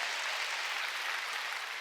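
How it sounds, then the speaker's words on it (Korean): A church congregation applauding during a Sunday worship service, steady and loud clapping from many hands that fills the whole moment without any voices. "박수 치려면 세게 치라니까."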